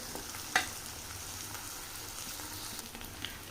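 Gourd pieces fry in a pan with a faint, steady sizzle and crackle, broken by a single soft clink of a utensil early on.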